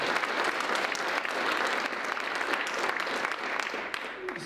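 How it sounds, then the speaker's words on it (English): Audience at a high school football awards ceremony applauds a coach, a dense burst of clapping from a room full of people, loud and continuous, easing slightly at the end. "Please give him a round of applause."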